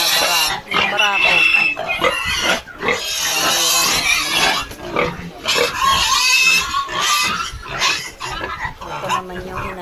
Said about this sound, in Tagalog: papakita ko yung mga alaga namin baboy dito